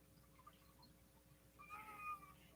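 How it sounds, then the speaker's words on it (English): A cat that wants to be let out gives a single faint, drawn-out meow. It sits in a quiet room over a low, steady hum. "You hear the cat?"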